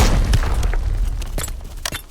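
A grenade blast in the shooter game Arena Breakout, a low boom right at the start followed by scattered crackling debris and a few sharp transients, no talking over it.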